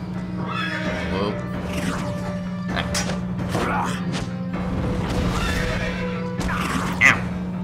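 A knight's horse in Ben 10: Alien Force neighs and whinnies loudly several times in a medieval forest battle, over a steady electronic hum, with thuds and impacts between the calls.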